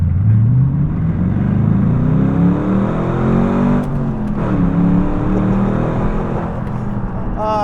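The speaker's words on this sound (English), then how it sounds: "All right, here's our little acceleration run. Almost to a stop, and foot flat to the floor." Chevrolet Corvette C5 with its LS1 V8 accelerating at full throttle from nearly a stop, a loud, steady engine roar with rising harmonics that climbs through the gears, heard from inside the car with no talk.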